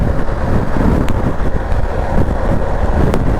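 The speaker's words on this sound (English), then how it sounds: "A little bit of wind." Wind roars steadily over a rider on a moving 2023 Triumph Tiger 1200 GT motorcycle, a loud, continuous broadband rush with engine drone beneath and a few faint clicks.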